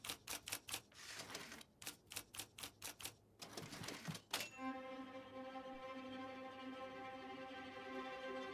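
A defective typewriter typing: quick bursts of sharp, close key strikes in uneven groups, ending with a ringing bell-like tone that fades out, no voices.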